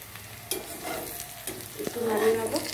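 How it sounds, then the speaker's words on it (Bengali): Onions and spices with salt and turmeric are stirred in a hot frying pan as a ridge gourd dish is cooked, giving a close scraping of the spatula over a steady sizzle that builds toward the end. "একটু নাড়িয়ে নেবো। দেখো পেঁয়াজগুলো একদম লাল লাল করে ভাজা হয়ে গেছে।"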